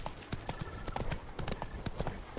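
Steady horse hooves clip-clopping at a trotting rhythm in the video game The Witcher 3, close and fairly loud, with no talking.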